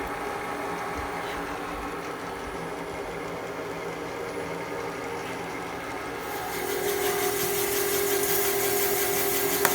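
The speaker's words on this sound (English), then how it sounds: "So this cutter cuts the bore, and as it goes down in there" A boring cutter machines the aluminum cylinder bore of a BMW M62 V8 engine, giving a steady mechanical whir and grinding hum that grows louder and brighter partway through.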